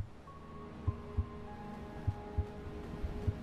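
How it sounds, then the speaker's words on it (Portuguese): A video game plays a slow heartbeat, several soft, deep thumps spaced irregularly, over a faint sustained ambient hum with drawn-out tonal notes. "E um coração batendo."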